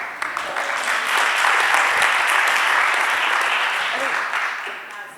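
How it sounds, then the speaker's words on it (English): A conference audience applauds a digital health speaker with a dense, sustained round of clapping that swells and holds steady, then tapers off near the end. "Can we have a huge round of applause for Yvonne Gallagher?"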